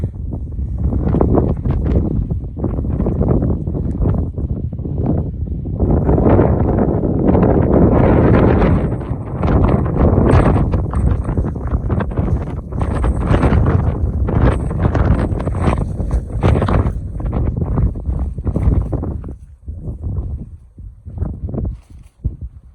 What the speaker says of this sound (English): Ooh, it's cold and windy.